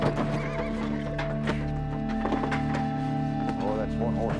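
A horse neighs and whinnies repeatedly while its hooves clop on a hard surface, close and loud over a dense background of music or ambience.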